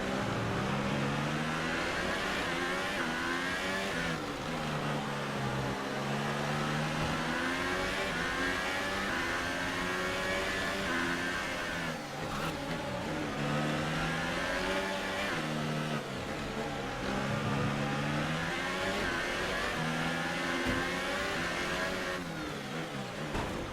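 An F1 car in the F1 2018 game at the Singapore Grand Prix, its engine droning and revving continuously with shifting pitch and the ERS whine audible, loud and steady throughout with no speech.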